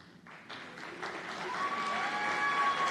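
A crowd applauds a group of new graduates at a nursing college white coat ceremony: clapping starts softly, then swells into loud, dense, sustained applause filling a large hall.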